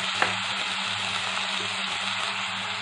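Chopped cluster bean pieces fry in a hot pan with tomato pieces for goruchikkudu curry, a steady, loud, dense sizzle that runs without a break at close range, with no voices.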